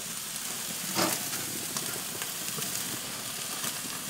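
Breakfast food on a BBQ grill, browning to grill marks and char, gives off a loud, steady, close hiss of sizzling throughout, with a faint clink near the start.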